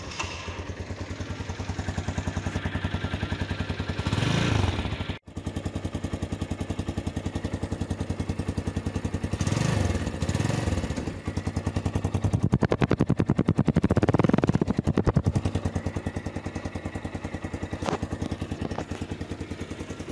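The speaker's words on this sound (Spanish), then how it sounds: "Ahora bien, pasemos al sonido de esta moto" A small 200cc Daytona Force motorcycle engine runs steadily with a pulsing idle at night, revving up and down several times, with one brief cut partway through.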